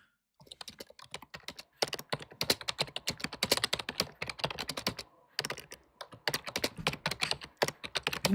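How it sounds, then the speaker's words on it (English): Fast, steady clatter of typing on a computer keyboard, close and crisp, with continuous runs of keystrokes broken by brief pauses. "What are you typing on an IBM?"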